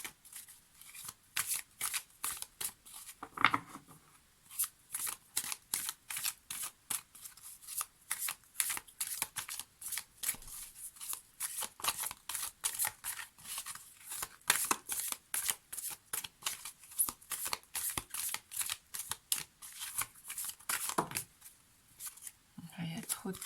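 Oracle cards are shuffled in a long run of quick, crisp riffling flicks close up, while someone speaks French intermittently over them.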